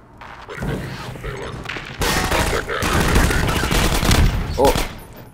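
Gunfire in the video game Half-Life 2: Episode 1, rapid volleys of shots and thuds that grow louder after a quieter opening, with a voice briefly talking over the combat.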